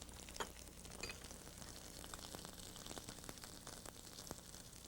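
Faint, steady sizzle of a quick stir fry with fresh ginger frying in a hot pan, with a few light clicks and scrapes of stirring and no talking.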